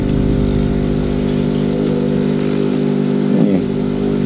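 A Yamano AP-08W aerator runs with a steady, loud mechanical engine drone, holding an even tone for about four seconds with a brief rattling flutter near the end.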